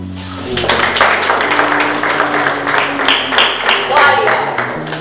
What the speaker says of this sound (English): The rest of you, clap your hands as your team walks up to the front